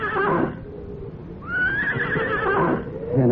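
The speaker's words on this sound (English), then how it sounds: "back to my horse, to my old friend, who stood patiently tethered, waiting for me" A horse whinnies twice, close and loud, with a short neigh followed by a longer rising-and-falling whinny and faint hoof shuffling between, no speech.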